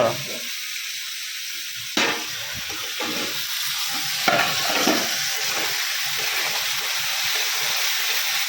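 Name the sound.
green peas being fried and stirred, vendor on train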